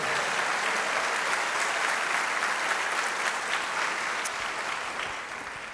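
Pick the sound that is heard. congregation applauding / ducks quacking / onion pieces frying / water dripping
congregation applauding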